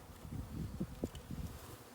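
Honey bees from a package are dumped into a hive over drawn comb, a low close buzzing hum with soft bumps and rustles.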